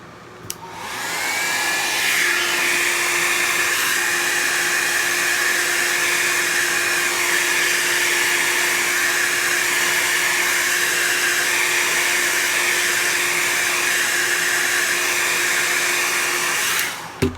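A heat tool blows steadily and loudly to dry alcohol ink, a constant whirring rush that runs nearly the whole time, starting and cutting off abruptly at either end.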